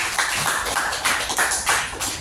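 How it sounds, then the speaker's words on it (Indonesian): Schoolchildren in a classroom burst into brief, close, continuous clapping that rises and falls in a few quick waves. "tepuk tangan untuk kita semua"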